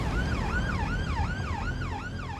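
A wailing ambulance siren on blue lights, sweeping up and down in a steady repeating cycle, loud and close with no talk over it.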